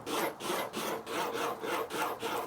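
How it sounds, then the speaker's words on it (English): A knife sawing back and forth through grilled Cumberland sausage links with a coarse grind, five or six even rhythmic slicing strokes, close and fairly quiet, no talking. "let's go ahead and slice in and see what they look like"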